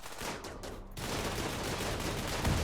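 A dense burst of overlapping gunfire as colonists shoot in Rimworld, starting after a short break and then continuing as a loud, steady rattle of rapid shots to the end.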